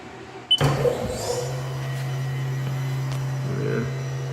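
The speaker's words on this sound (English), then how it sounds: "We'll stop the spindle and we'll run it in reverse." A 2018 Haas VF-2 vertical machining center spindle starts up in reverse with a brief clunk, then settles into a steady, close mechanical hum that holds unchanged to the end.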